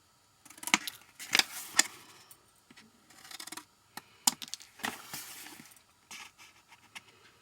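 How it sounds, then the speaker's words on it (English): Scissors trim the corners off heavy paper for a craft noteboard, producing a series of close, crisp snips and crunching cuts in irregular bursts, with quiet pauses between them and no talking. "I'm just going to trim off these corners because obviously this paper is a little bit more heavier."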